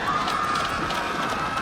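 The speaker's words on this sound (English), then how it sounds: "began stampeding in the opposite direction" A crowd of Pokémon citizens in an audio drama stampedes away, heard as a steady rush of many running footfalls and bustling crowd noise at an even, close level throughout.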